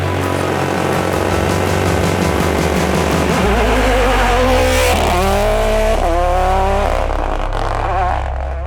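A rally car engine at the 2021 Rallye Baie des Chaleurs roars loudly and continuously, revving up and down through gear changes with sharp rising pitch sweeps near the end.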